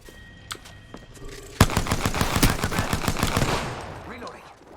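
Rapid bursts of video game gunfire, including machine-gun-style volleys, erupt loudly after a quiet start of scattered single shots and continue densely before tapering off.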